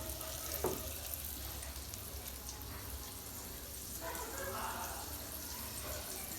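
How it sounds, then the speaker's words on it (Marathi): Bangda (mackerel) fish coated in masala and rice flour fry in hot oil, giving a continuous soft sizzle at a constant low level with a faint clink early on and a slightly louder hiss toward the end. "तेल तापलेलं आहे आता, तर मच्छी फ्राय करायला घेते"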